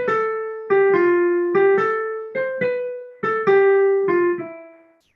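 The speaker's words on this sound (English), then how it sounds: "It's called a swing rhythm, and basically the gist of it is you're going to alternate between playing" A piano plays single notes in a swing rhythm, alternating long and short, about eight clear struck tones ringing and decaying before the last fades out, close and solo with no talking.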